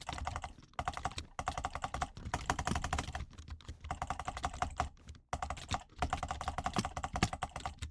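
Fast, dense typing on a computer keyboard rattles close up, broken by short pauses, with heavier thuds from the space bar mixed into the steady clatter.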